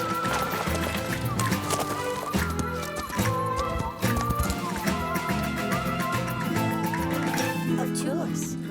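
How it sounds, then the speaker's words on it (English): Horse hooves clip-clop behind a cart, mixed under dramatic music and voices, with a steady trotting rhythm throughout. "Sounds like a horse back there behind us."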